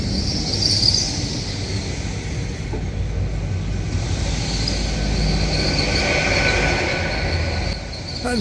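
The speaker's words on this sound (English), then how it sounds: "And my dashing green carriage arrived, no changes all the way from Stroud to Paddington." A green passenger train on the line from Stroud to Paddington pulls in, a steady loud rumble of wheels on rail with a faint high squeal running throughout and no talking.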